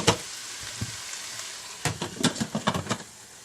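Olive oil sizzling in a hot pan, with a soft steady hiss and a brief cluster of sharper crackles and pops near the end.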